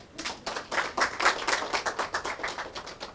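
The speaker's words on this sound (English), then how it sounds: "Give him a clap, please." A small audience claps at an award ceremony for a filtration competition, a run of fairly close, fast hand claps spread across the clip with no talking.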